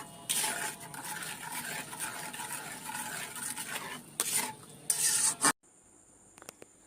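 Mango juice and sugar being stirred in a wok over medium heat, a steady scraping and swishing with a few louder clatters of the utensil near the end, then near quiet.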